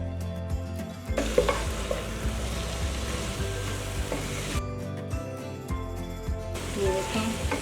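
Shredded cabbage sabzi with green chillies being stirred in a pan over the flame, a spoon scraping and tossing against the metal over a soft continuous sizzle, with brief gaps where the stirring pauses.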